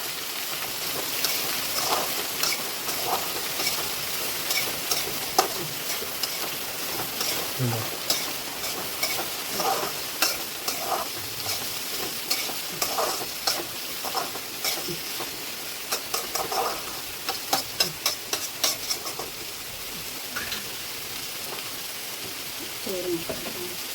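Chicken curry ingredients fry and soften in a pan, giving a continuous bright sizzle broken by repeated scraping clicks of a spoon stirring, close and steady throughout.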